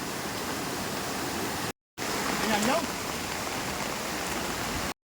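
Hathani Mata waterfall near Ghoghamba pours naturally over a Shiva linga, producing a constant broadband rush of falling water with a brief break and a faint voice rising over it.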